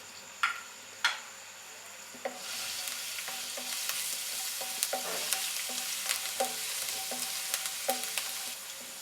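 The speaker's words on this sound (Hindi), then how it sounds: "कुटा लहसुन, इसको हल्का सा फ्राई करेंगे।" Crushed garlic frying in two tablespoons of oil in a pan, a steady close sizzle after a couple of clinks, with light stirring scrapes and taps recurring throughout.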